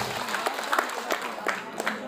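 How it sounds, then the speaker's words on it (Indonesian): A crowd clapping steadily, a burst of applause at moderate distance with scattered individual claps standing out. "Tepuk tangan untuk adik-adik kita."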